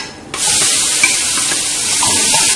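Chopped onion hits hot oil seasoned with asafoetida and cumin, bursting into a loud, continuous sizzle right after a short quiet moment. The sizzle stays close and steady until the end.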